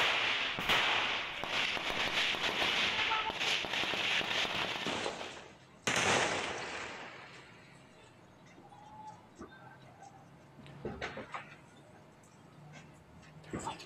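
Gunfire during an armed clash, dense crackling volleys of sharp reports for several seconds, a brief pause, then another burst, followed by scattered fainter shots and background sounds.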